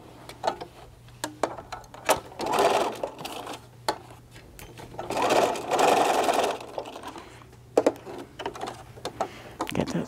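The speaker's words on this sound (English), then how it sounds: "All right, at the sewing machine." Sewing machine stitching the lining of a Japanese knot bag, running in two sustained bursts of rapid mechanical whirring between short clicks and handling noises, close and clear.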